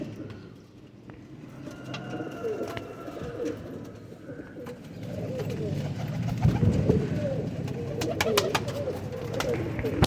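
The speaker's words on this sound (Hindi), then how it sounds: "शेखों वाला कबूतर है जैनवन।" Sheikhon wala pigeons coo softly in a loft collection, with low repeated cooing mixed with scattered bird calls and background noise while people talk nearby.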